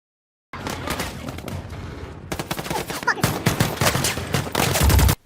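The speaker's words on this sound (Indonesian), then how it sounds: "Namun suara tembakan itu membuat keberadaan timnya diketahui oleh musuh, dan terjadilah baku tembak." Dense gunfire in a firefight from the film American Sniper: rapid bursts and overlapping shots in a continuous barrage, loud and close, building toward heavier booms at the end.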